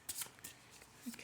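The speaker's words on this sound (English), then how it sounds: "The cards have all been very well shuffled." Tarot cards riffled and shuffled by hand in a quiet room, a few crisp papery bursts separated by short pauses, close and fairly soft.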